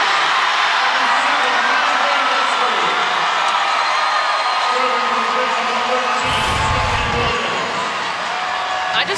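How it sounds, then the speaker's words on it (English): A large arena crowd of 5,200 roars loudly and steadily after a point in a 2019 Pittsburgh vs Penn State women's college volleyball match, with cheers and whoops rising over the din and voices talking underneath. "I just love listening to this crowd after a point like that"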